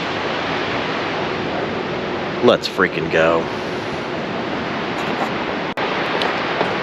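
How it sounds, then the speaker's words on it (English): A steady, loud roar of falling water from Hurricane Falls, a waterfall in Georgia/North Carolina, fills the scene close by while a person briefly speaks over the rush partway through. "That is Hurricane Falls."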